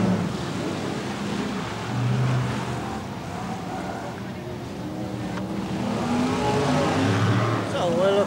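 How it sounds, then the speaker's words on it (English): BriSCA Formula 1 stock cars race around the short oval at Kings Lynn, their engines droning and rising and falling in a continuous roar, heard at a distance beneath a commentator's voice. "The cars clattering about right around the circuit."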